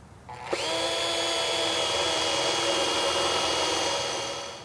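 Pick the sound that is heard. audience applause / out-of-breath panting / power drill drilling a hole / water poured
power drill drilling a hole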